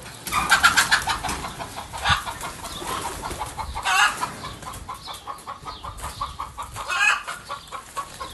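Pigeons in and around an old well give a busy mix of cooing and throaty calls with flapping, fairly close and continuous, with no talking.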